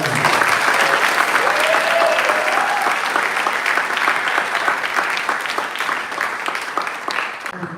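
Sustained audience applause for a jazz drummer and his band at a 2024 jazz workshop symposium, dense steady clapping from a sizable crowd that holds strong for several seconds before thinning slightly, with faint voices mixed in.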